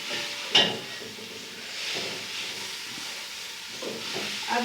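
Food frying with salt and black pepper in a pan for a Chinese recipe: a soft, steady hiss and sizzle close by, with a brief sharp clink near the start and occasional stirring scrapes.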